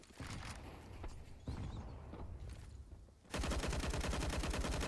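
Rifle fire in a Counter-Strike match: scattered sharp shots early, then a sustained rapid automatic burst near the end, loud and close, without voices.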